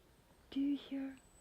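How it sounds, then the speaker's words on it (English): Two low, hollow hoots, each under a second, close together against a quiet night background, like an owl calling from nearby, on a rainy day hike in Okinawa. "Do you hear owls? Are those owls?"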